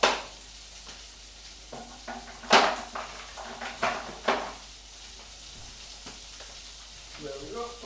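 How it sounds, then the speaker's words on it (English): Chickpeas fry in a pan for a vegan keto curry, giving a quiet, steady sizzle broken by a few sharp clinks and scrapes of a utensil against the pan. "Now, can you hear that? That is the chickpeas."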